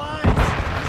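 A flashbang grenade goes off during a hardpoint match in Call of Duty: Modern Warfare II, one sharp loud burst with a low boom that settles into a lingering ringing whine.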